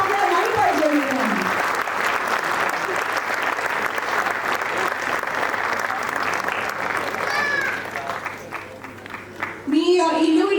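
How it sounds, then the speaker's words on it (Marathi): Loud, sustained applause from a crowd at a Marathi film trailer launch event, a dense steady wash of clapping that runs for about ten seconds and then gives way to a voice near the end. "टाळ्या जोरदार झाल्या पाहिजे वर्षा फाळके मॅमसाठी."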